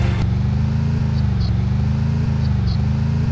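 A car engine in the video game Free Fire drones steadily and evenly throughout, with a low, continuous hum and a few faint, short high blips over it.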